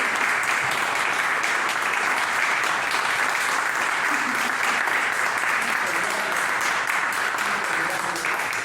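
An audience at a book presentation breaks into loud, sustained applause to welcome the author, a dense, even wash of clapping filling the room for nearly nine seconds.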